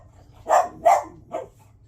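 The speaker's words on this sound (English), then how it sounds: "Garbage men are outside, and the dogs are triggered." Indoor dogs bark at garbage collectors outside, three sharp barks, two quick ones followed by a slightly softer third, loud and close with no talking.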